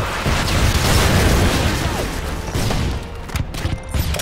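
Gunfire and explosions from an enemy AC-130 in Modern Warfare 2 on the Sub Base map during Ground War Domination. Sustained loud booms and rapid bursts roll together, then thin out into scattered pops.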